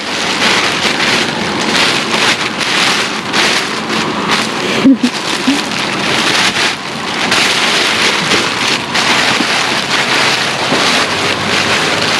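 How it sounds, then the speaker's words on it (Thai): Steady, heavy rain falls close by, a dense hiss with gusty wind buffeting the microphone and a brief knock midway, continuous throughout. "บัดว่าฝนตก"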